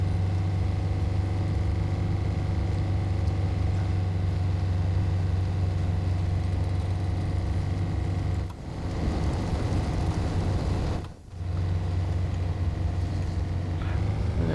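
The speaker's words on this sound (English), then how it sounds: "I'm sure this engine isn't running well either." Damaged car engine in ArmA 3 running poorly, a steady loud low drone with a strong hum that persists throughout, dipping briefly twice.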